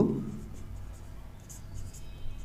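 Chalk or marker scratches faintly on a board while a teacher writes a calculus limit expression, a soft continuous scraping with no talk.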